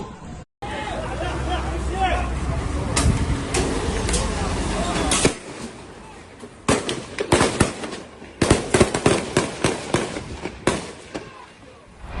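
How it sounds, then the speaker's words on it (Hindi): Bottle bombs going off during Palestinian attacks on the Israeli army, sharp bangs and crackling bursts over a noisy crowd hubbub, with a dense stretch of blasts followed by scattered separate explosions. "फ़िलिस्तीनियों ने इजराइल की मिलिट्री को निशाना बनाया बॉटल बम से।"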